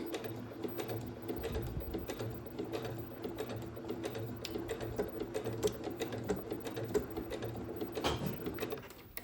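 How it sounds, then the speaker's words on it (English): Sewing machine stitching along a folded sleeve edge, played back sped up: a rapid, continuous mechanical clatter of needle strokes, close and steady for the whole stretch, with no voices. "So we would recommend sewing on the slowest setting that your machine has"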